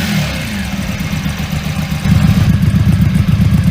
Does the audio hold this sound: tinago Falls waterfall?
no